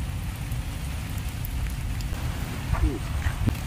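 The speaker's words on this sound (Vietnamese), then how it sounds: "Mưa quá trời luôn." Heavy rain falling steadily in the countryside of Vietnam's Mekong Delta during a storm, a dense constant patter with a few brief louder knocks near the end.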